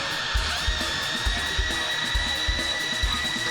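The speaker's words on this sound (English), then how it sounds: "Yeah, he's using a drill over his pickups." A power drill held over bass guitar pickups at a live concert, heard as a steady electronic whine with a faint repeating low thump underneath, fairly quiet within the mix.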